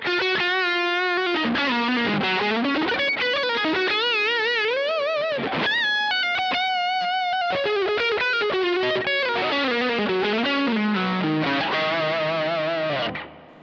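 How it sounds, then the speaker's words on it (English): Overdriven electric guitar played through an amp-less pedalboard, a gritty distorted tone with sustained chords and melodic lead lines, loud and continuous with chorus-like shimmer and no voices. "we can also have some overdriven tones, just switching the channel in the mothership."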